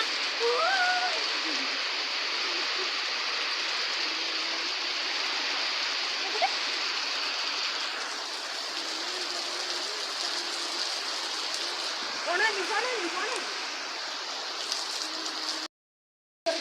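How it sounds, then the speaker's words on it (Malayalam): Heavy rain with strong wind pours in a dense, continuous roar, with faint voices murmuring underneath at times. "ഭയങ്കര മഴയാണ്. കാറ്റെല്ലാം എന്താ അറിയണ്ടേ, അത്രയ്ക്കുണ്ട്."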